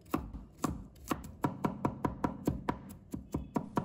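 A knife rapidly minces garlic on a cutting board: about a dozen sharp, evenly spaced chops, close and clear, with no voices.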